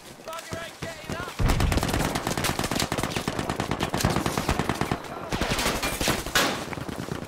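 Gunfire in Battlefield 5 during a D-Day paratrooper match: dense, loud bursts of automatic fire and single shots crackle almost continuously, with a brief lull near the end before more shooting, and voices talk faintly underneath.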